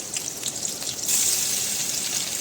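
Prawn masala with green chilli fries in plenty of oil, giving a close, crackling sizzle that grows brighter and louder midway and then holds steady.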